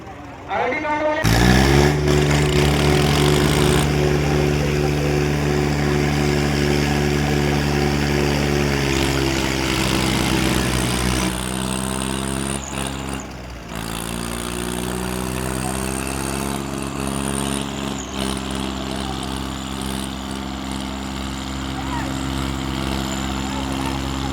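Heavy Swaraj 855 and Eicher 551 tractor engines roar and rumble steadily at close range during a tractor pull, rising and falling as they rev, with voices talking over the noise.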